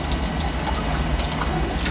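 Water draining back through the well pump plumbing of a farm house, a steady continuous rushing and gurgling flow that stays loud and even throughout.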